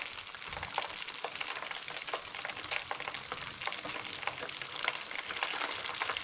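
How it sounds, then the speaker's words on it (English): Chicken pieces in hot oil during a quick second deep fry at higher temperature, a steady bubbling sizzle with irregular crackles and pops, close and continuous without voices. "for this second fry, we're just doing a lot quicker and a bit higher temperature"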